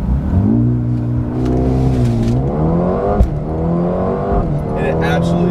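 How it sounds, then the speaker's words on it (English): A 2020 Mercedes A35 AMG pulls away on launch control, its engine climbing loud and close through rising revs with a quick shift break partway through. A voice is heard faintly under the engine. "this is going to be the launch control"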